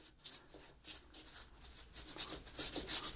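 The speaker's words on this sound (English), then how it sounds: "with the recoil spring, again, I would use the brush" A small brush scrubs a pistol's recoil spring during cleaning, giving soft, rhythmic bristle rubbing strokes that grow slightly louder and busier toward the end, close and fairly faint with no talk.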